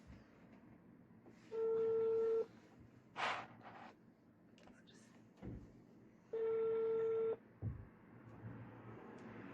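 A phone dials for a prank call, with two sustained ringback tones spaced apart. Brief clicks and muffled talk sit in between.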